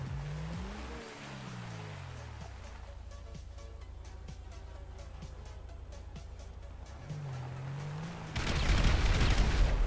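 Gunfire and explosions from the online shooting game GTA 5 on PC: a steady rattling barrage of shots fills the clip, with a rising engine-like drone, then a loud burst of blast noise near the end.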